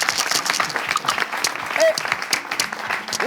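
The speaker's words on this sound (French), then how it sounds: "ça t'applaudit" An audience applauds a dancer at a lively event: dense, continuous clapping from a crowd, fairly close, with voices mixed in underneath.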